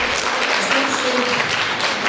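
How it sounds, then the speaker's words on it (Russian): Steady, loud audience applause at a gathering, a dense continuous wash of clapping with a faint tonal sound beneath. "аплодисменты, аплодисменты Виктории"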